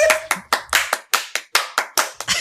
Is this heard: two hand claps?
yes